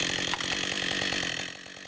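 Chainsaw cutting wood during a logging skills training course, a loud close buzzing engine with rapid pulsing rhythm that eases slightly near the end, no voices.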